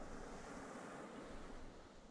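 Rising tide waters wash in with a steady, broadband surf-like rush in the Empires of the Undergrowth video game, continuous and fairly quiet, with no voices.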